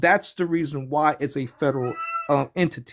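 A pet cat gives one short, clear meow in a brief pause while a person keeps talking close by.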